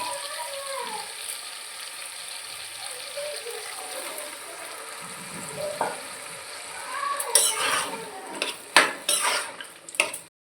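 Mutton and boiled potatoes being sautéed in a pan for a pea and potato curry: a soft continuous sizzle under repeated scraping and stirring, with louder clanks of a spoon on metal toward the end.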